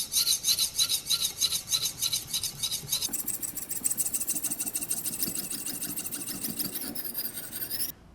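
A Victorinox kitchen knife is ground on a silicon carbide stone in a TSPROF Blitz sharpener, making rapid, rhythmic rasping strokes, bright and close, steady throughout with no speech.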